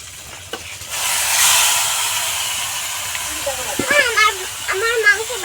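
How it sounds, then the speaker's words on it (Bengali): Meat goes into a pan of fried spice paste and sets off a loud, steady sizzling hiss, while a person talks over the cooking. "আমাদের মশলাটা কষানো হয়ে গেছে এবারে দিয়ে দিচ্ছি মাংস"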